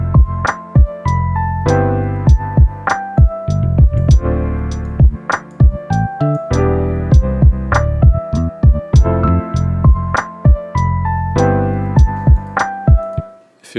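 Lo-fi hip-hop beat programmed in LMMS: punchy kick and snappy percussion hits in a steady loop over sustained piano chords and a low bassline, mixed loud and full throughout with no talking.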